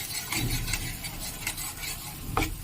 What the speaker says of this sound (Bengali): মশলাটা খুব ভালো করে কষিয়ে নেবে।